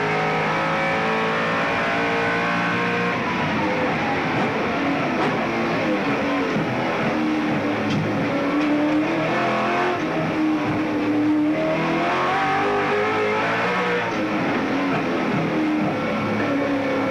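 Onboard a Ford Falcon touring race car at Calder Park during a 1998 Australian Touring Car Championship race, the engine roars loudly and continuously, pitch sweeping up and down through gear changes and corners.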